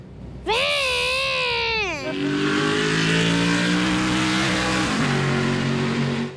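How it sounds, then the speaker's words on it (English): Loud NASCAR race car engines roar up close at Watkins Glen, a rising and falling whine giving way to a steady, sustained throaty drone. "everyone is ready for the drivers to start their engines. Because they're super loud."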